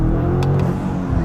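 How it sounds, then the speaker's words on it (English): BMW G90 M5 engine fitted with a RamAir carbon intake, starting in hybrid mode and giving a short light rev, a steady close engine note with no talk. "So engines come on, just a little rev."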